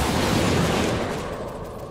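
Missiles launch at an enemy ship during a Star Citizen space dogfight, heard as a loud, dense roaring rush that fills the opening second and then gradually thins out.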